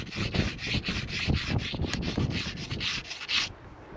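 A stone tool is rubbed against mica rock in quick, close, rhythmic scraping strokes that stop abruptly near the end.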